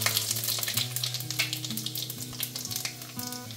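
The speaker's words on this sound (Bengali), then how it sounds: "তেলটা আমার গরম হয়ে গেছে, এবার আমি 5 ফোড়ন সম্বরা দেব।" Panch phoron spices crackle and sizzle steadily in hot oil in a pan, a loud, continuous frying hiss with occasional stirring, close up and with no talking.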